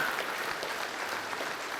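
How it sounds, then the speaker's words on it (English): At a memorial service for a fire chief, an audience applauds with steady, even clapping that sounds somewhat distant and soft, filling the whole moment without a break. "Can we get a big round of applause?"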